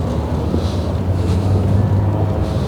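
Boat running out at sea on a deep sea fishing trip off Dubai, a constant loud low rumble of engine and water with wind buffeting the microphone, no voices.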